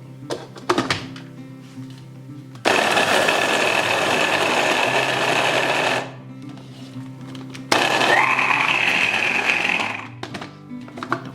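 Food processor whirring loudly in two bursts of about three and four seconds, churning a vegan bliss ball mixture after carob powder is added, with a brief pause and small clunks between runs.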